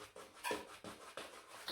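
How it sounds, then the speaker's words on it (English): Several dogs next door whimper and pant in short, faint bursts, about five quick breathy whines spaced roughly a third of a second apart, distant and muffled. "how many dogs live next door?"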